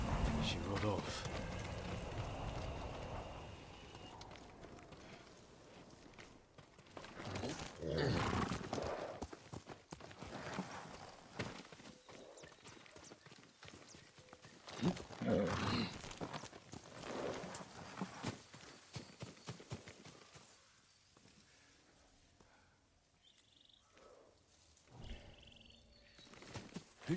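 A horse's hooves beat quickly and then fade as it gallops away in Ghost of Tsushima, loud early and thinning out toward the end, with voices talking over it.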